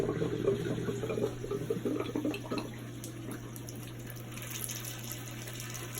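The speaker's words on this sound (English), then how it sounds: "the hot water tank is now being filled up as well too." Water runs steadily while a hot water tank fills during a plumbing startup, a continuous close rushing flow over a low steady hum, with no talk.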